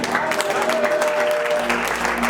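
A church congregation applauds during a worship service, producing steady, dense clapping throughout with a voice and some sustained tones beneath it.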